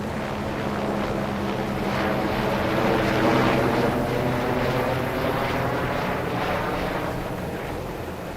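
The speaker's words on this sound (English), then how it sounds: "Got the plane flying over. It's quite noisy." An airplane drones overhead in Farming Simulator 22, a loud steady engine roar that swells toward the middle and slowly fades, with no speech.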